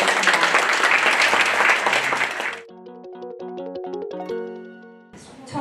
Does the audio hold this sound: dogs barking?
no